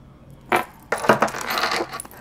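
Small dice tumbling and clattering across a hard surface, a brief first knock followed by a longer rattling roll that settles, close and clear with no talking.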